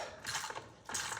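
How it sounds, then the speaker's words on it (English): Ratchet clicking while bolts are tightened on the lower unit of a 40-year-old Bass Tracker boat's outboard motor, two close bursts of rapid mechanical clicks separated by a brief lull. "Just get all of our bolts tightened back up."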